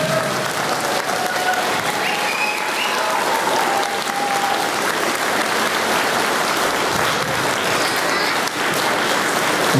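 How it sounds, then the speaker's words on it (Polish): Loud, sustained applause from the audience after a children's theatre premiere, many hands clapping continuously, with faint tones from stage or music drifting through early on. "Wielkie, wielkie brawa!"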